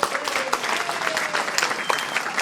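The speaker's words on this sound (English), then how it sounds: "Please give them a big round of applause." An audience at a Slavic club folk dance performance applauds for the Polish folk dance company, a dense, steady roar of clapping with occasional sharp nearby claps and a hint of cheering.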